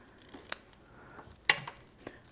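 Scissors snip paper ribbon at an angle in a few sharp, close cuts spread over two seconds, quiet and alone.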